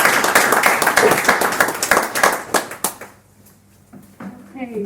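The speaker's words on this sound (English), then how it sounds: "Big round of applause for Aditi." Audience applause for Aditi Nair, a speaker at a talk on building enterprise products that sell: dense clapping from a crowd that thins into scattered claps and fades out, with a voice beginning near the end.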